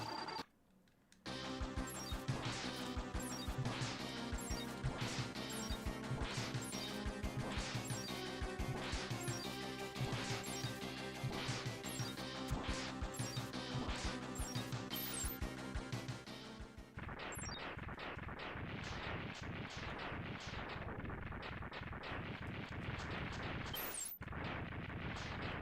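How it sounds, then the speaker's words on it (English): Explosions from the Mega Man X video game burst in a rapid, continuous chain of loud chiptune blasts that run on for many seconds, the texture shifting partway through. "These explosions are so long."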